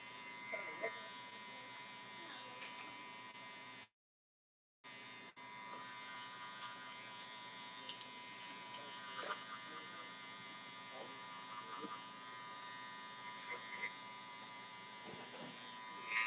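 Electric hair clippers buzz steadily at close range while a mid fade haircut is softened with the full blade, the hum briefly cutting out and resuming, with faint clicks and handling noises throughout.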